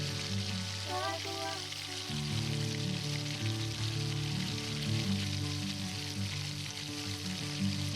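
A paste of mustard, cashew, raisins, poppy seed and charmagaj fries in oil with a dense, continuous sizzle, faint occasional stirring, and a low steady hum running underneath.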